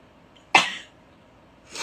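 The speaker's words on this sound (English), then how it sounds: "I have to sneeze." A single sharp sneeze bursts out close to the mic, followed by a softer breathy exhale, in an otherwise quiet room.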